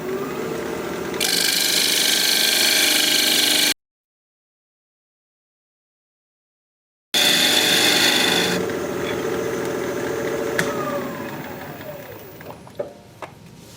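Woodturning tool cutting into an end grain wooden bowl spinning on a lathe, a steady loud rasping scrape that stops abruptly, then resumes and gradually fades with a few faint knocks at the end.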